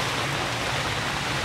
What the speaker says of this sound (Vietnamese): Mưa luôn rồi mưa người ơi.